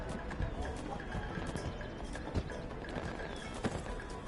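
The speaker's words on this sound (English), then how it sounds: "Oh, somebody's got a water horse." Rapid hoof clip-clop of a water horse galloping in a PS4 video game, steady rhythmic hoofbeats with splashy watery texture and occasional louder thuds, under faint game ambience.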